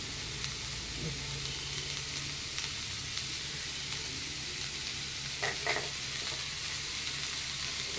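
Paneer fries in a pan with a light salt seasoning, giving a quiet, steady sizzle that runs throughout, with a few soft clinks from stirring.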